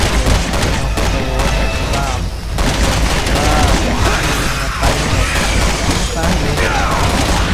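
Gunfire from the video game Resident Evil 6: dense, continuous bursts of shots and booms, loud and close, with a brief lull partway through and game effects layered over it.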